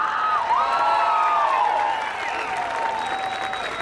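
Festival crowd at Expo Mimbre 2024 applauding and cheering for a ranchero band, with sustained clapping layered with high whoops and shouts, loud and continuous throughout.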